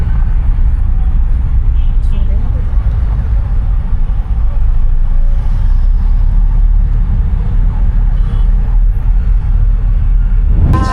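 Busy road traffic of cars and trucks in Nepal, a loud continuous engine rumble and road roar up close, with passing vehicles and occasional hiss or brake sounds throughout.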